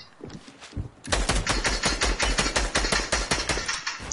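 Rapid automatic gunfire from a video game rattles in a loud, steady burst of closely spaced shots after a few scattered quieter pops, with no one talking over it.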